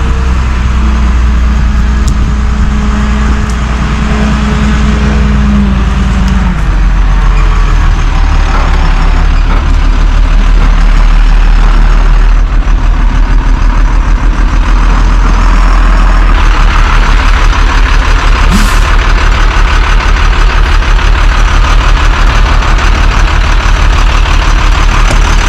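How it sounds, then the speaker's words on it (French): A large truck grinds through a turnaround on a narrow side road, pulling out toward a main road; its heavy diesel engine holds a loud, steady low rumble close by for the whole stretch, with no talking. "Et là, Didier, il faut qu'il sorte le camion de cette petite route et faire demi-tour sur la route principale"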